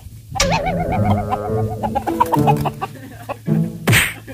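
Chickens cluck and warble close by, several birds overlapping in a busy run of calls, ending in a sharp, louder squawk.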